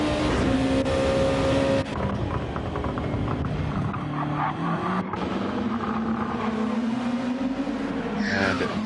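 A Honda NSX Gr.2 race car racing at Road Atlanta in a driving video game, its engine whining loudly with pitch swinging up and down through shifts, with other cars' engines layered beneath and no talking.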